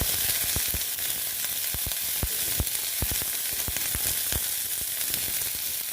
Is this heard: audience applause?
no